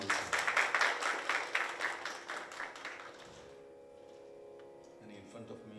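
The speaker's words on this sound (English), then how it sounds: "may I request once again a big round of applause for him also" Audience applause at a Hindustani classical music concert at a lotus temple, a dense burst of clapping that is loud at first and then thins and fades out over a few seconds.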